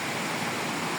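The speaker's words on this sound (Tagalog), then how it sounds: "Ang sapa." A stream flows in a constant, close hiss and rush of water, steady and unbroken through a brief moment.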